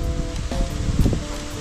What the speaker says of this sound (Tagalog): malakas yung hangin mga kasani